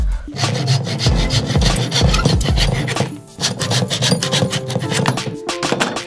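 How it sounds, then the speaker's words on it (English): Wooden dowels being hand-sawn to length for a shotgun shell coat rack, loud close rasping strokes in a steady back-and-forth rhythm with a brief pause midway. "Just use the shotgun shell to mark the length of your dowels and cut them to that length."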